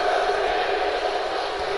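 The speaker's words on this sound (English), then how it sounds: "The crowd chanting for Suplex City." A crowd chants in the WWE 2K16 video game during a Fastlane pay-per-view match, a dense, steady roar of many voices filling the arena without a break.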